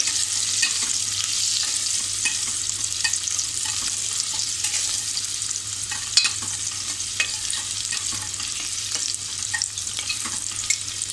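Onions frying for a Malvani-style black-eyed bean and potato bhaji, a steady close sizzle with a continuous hiss and light scraping from stirring in the pan over medium heat, no voices.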